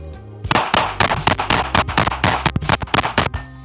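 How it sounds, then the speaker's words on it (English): Smith & Wesson PC Bodyguard pistol fired point shooting on a range: a rapid string of around a dozen sharp, loud shots in quick uneven succession. "I'm gonna point shoot this whole thing."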